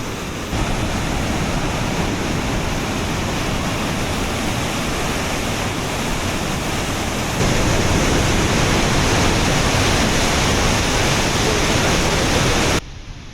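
Kakabeka Falls waterfall roars in a dense, unbroken rush of water, loud and close, steady for the whole stretch with no talk over it.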